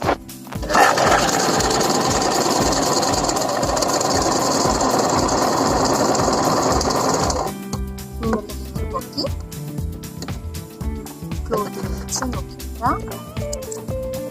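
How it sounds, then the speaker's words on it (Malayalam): A sewing machine stitches panels of an umbrella-style flared churidar top, running in one loud continuous burst before breaking into short, halting stitch runs with pauses between them. "ഉൾവശം രണ്ടും ഉള്ളിലേക്ക് വരുന്ന രീതിയിലാക്കി ചേർത്ത് പിടിച്ച് സ്റ്റിച്ച് ചെയ്ത് പോരാം"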